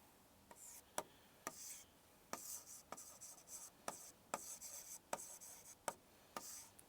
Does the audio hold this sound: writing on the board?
yes